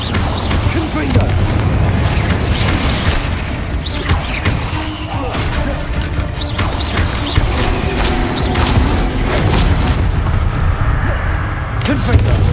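Repeated Confringo explosive spell blasts in Hogwarts Legacy, loud booming impacts with crashing debris over a dense, continuous game soundscape, with a voice casting spells throughout.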